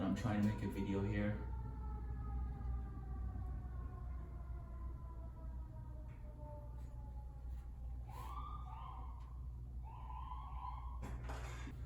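An emergency siren wails steadily from outside, its rising and falling tone carrying for several seconds beyond a garage where an old VW Rabbit is being converted to electric, with a few knocks and clatters nearby.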